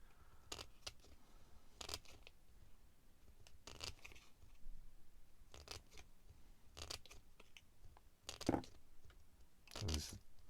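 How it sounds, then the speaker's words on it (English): Scissors cutting out a paper poppy shape, with a series of short crisp snips at uneven intervals, close and quiet. "And I'm just going to cut all the way around."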